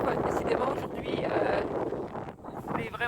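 Strong wind roars and buffets across a sailboat sailing with two reefs in the mainsail, a steady loud rush of gusts close to the microphone.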